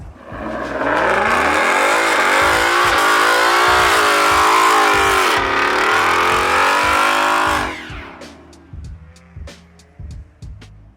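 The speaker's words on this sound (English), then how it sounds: "Who gonna hype up to do a burnout right now?" A car does a burnout at a car meet in Mexico, its engine revving loud and sustained with screeching tires for about eight seconds before cutting off, followed by scattered crowd noise and claps.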